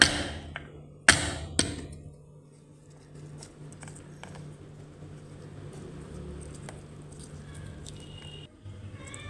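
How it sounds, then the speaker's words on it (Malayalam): A few sharp taps and thuds near the start as turkey berries are tapped and crushed, then a quiet stretch with faint scattered taps over a low background hum. "എല്ലാ ചുണ്ടക്കയും ഞാനിങ്ങനെ തട്ടിയെടുക്കുവാണ് ഓരോന്നായിട്ട് തട്ടുമ്പോൾ തന്നെ നല്ല രസമാണ് പടക്കം തല്ലുന്നത് പോലെ"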